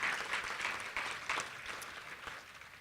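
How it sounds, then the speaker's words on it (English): Conference audience applause thanking organizers at a foundation's annual meeting, a soft, fairly distant patter of clapping hands that gradually tapers off. "just give them some applause for their hard work"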